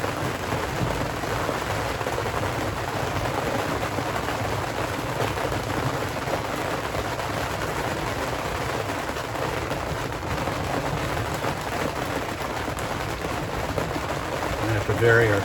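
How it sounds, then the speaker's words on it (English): Steady rain pours down on a boat sailing north from Cape Henlopen to Sandy Hook, a dense continuous hiss with a low rumble underneath, loud and unbroken throughout. "as the rain comes down, it displaces the air, which pushes things around a little bit"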